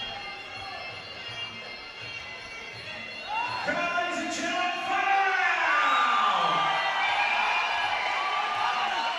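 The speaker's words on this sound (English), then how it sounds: "Massive crowd." A massive crowd at a Muay Thai fight in the Craigie Leisure Centre roars and cheers, the noise swelling to a loud, sustained wall with whoops rising above it.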